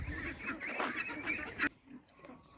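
A flock of farm ducks honks and quacks in a dense, busy chorus while being fed, close and lively, then thins to a few scattered calls.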